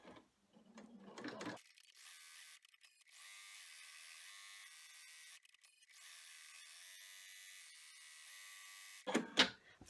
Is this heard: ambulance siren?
no